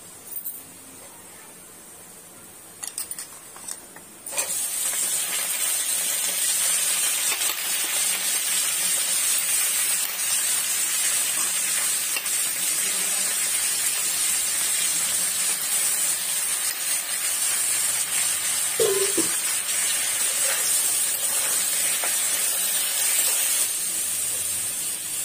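Amaranth leaves go into a hot pan with fried urad dal on low heat, a soft start then a sudden steady hiss of steam and sizzling that continues evenly, with one faint clink midway.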